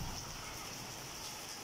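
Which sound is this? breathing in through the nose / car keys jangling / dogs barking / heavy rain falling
heavy rain falling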